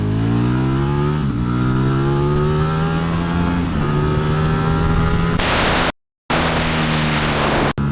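A new motorcycle accelerates hard, its engine note climbing steadily in pitch through the gears, loud and close, with a brief dropout near the end.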